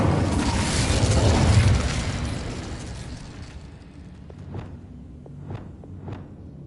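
A fire spell is cast in the Hogwarts Legacy video game on PS5: a loud, roaring whoosh of flame that swells, fades into a rumble, then gives way to a few sharp crackling pops.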